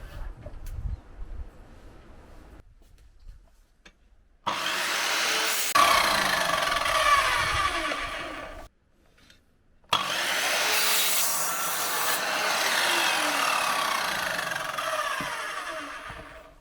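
Wood trim for a camper slide-out bed is cut with a power saw in two long, loud, steady bursts of rasping whine, separated by brief pauses and preceded by quieter handling noises.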